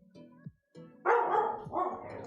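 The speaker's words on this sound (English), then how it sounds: "And yes, I hear you over there, dog." A dog barks loudly from nearby in a couple of sharp bursts, following a quieter stretch of low sounds.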